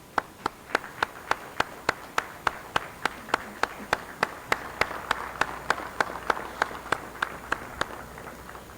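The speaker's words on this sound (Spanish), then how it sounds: "pido un aplauso" A steady, evenly spaced series of single sharp claps at an Armed Forces Day ceremony commemorating the Battle of Pichincha, about two per second for nearly nine seconds, crisp and fairly close, with no talk over it.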